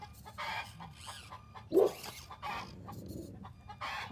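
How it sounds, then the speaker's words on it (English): A chicken gives a single short squawk or cluck, with faint background rustle and other quiet noise around it. "this chicken's gonna die."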